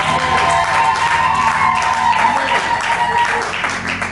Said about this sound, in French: Est-ce qu'on peut applaudir le Seigneur?